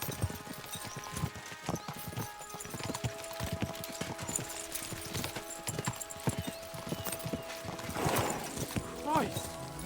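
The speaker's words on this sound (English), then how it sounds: "We should spur the horses on." Rhythmic hoofbeats of galloping horses in the video game Kingdom Come: Deliverance II clatter steadily throughout, with voices talking over them and a brief shout near the end.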